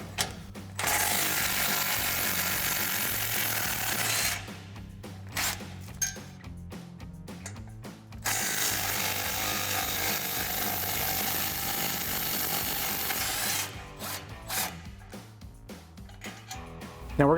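Ratchet with a 14mm socket working exhaust bolts on a Toyota Tundra. Close, rapid clicking runs in long bursts, separated by short pauses and choppy, irregular stretches.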